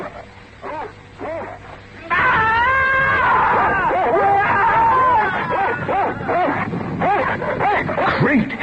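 A dog barks, yelps and whimpers excitedly in a tense radio drama scene, the sharp cries rising over a babble of agitated voices and continuing in bursts throughout.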